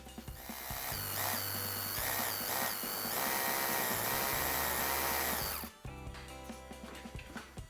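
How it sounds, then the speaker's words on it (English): A power drill runs in a few bursts, revving and grinding as it bores into a wall, then stops abruptly, leaving quieter clatter behind. "Once you drill, it catches all the dust."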